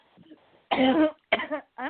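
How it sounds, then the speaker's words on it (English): A few harsh coughs close up, a long one followed by two shorter bursts, with a faint breathy sound at the start. "sorry, my cough won't stop"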